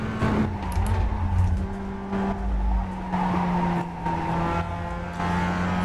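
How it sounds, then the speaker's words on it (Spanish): A damaged Mazda MX-5 racing at Laguna Seca in iRacing drones steadily up close with a shifting engine pitch, while its tires squeal and skid through the turns in intermittent bursts. "Llevo coche roto, cada vez se derrapa más"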